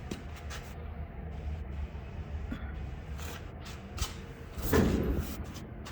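Glass is worked into a 1955 Dodge truck door: a steady scraping, rubbing clatter with scattered knocks, ending in a louder sliding clunk. Nobody speaks.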